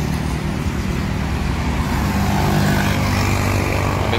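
Road traffic rumbles steadily around a Sempati Star bus on a busy road, a dense, loud, unbroken wash of engine and tyre noise from passing vehicles with no talking.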